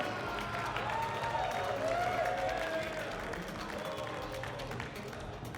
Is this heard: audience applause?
yes